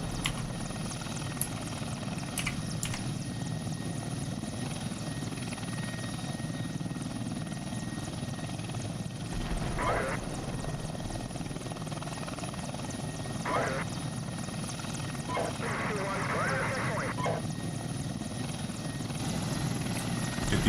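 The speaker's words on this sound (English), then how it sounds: "Be advised, enemy chopper spotted vicinity Hart Hill." An enemy helicopter in the tank simulator Steel Beasts Pro thumps steadily across a long stretch at treetop level, its rotor drone continuous under the battlefield din, with short bursts of radio and crew chatter cutting through.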